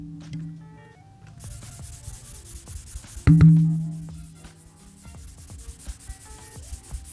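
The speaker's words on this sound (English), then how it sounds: "It's actually not a scratchy sound when you're pulling across the screen, going back and forth." A stylus drags back and forth across an iPad Pro 11 fitted with a Paperlike V2 matte screen protector, giving a soft, close, continuous rubbing scrape with one brief louder bump partway through and no talk.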